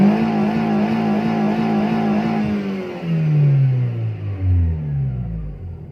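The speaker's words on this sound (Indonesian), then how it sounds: "tesnya dibejek aja gasnya." A Timor car engine revs as the throttle is pressed hard: a loud rising roar that climbs, dips and surges again, with no talk over it.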